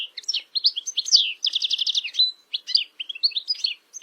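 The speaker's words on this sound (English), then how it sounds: "The first one is goldfinch" A goldfinch sings a lively, rapid string of high twittering chirps and trills, clear and close with short pauses, with no other sounds.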